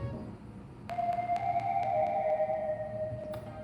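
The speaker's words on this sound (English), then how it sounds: "I've added this like a transition melodic fill kind of sound" A short melodic transition fill played on a Vital software synth with reverb: a few bright sustained notes entering sharply, held tones ringing out and fading into a reverberant tail, heard alone.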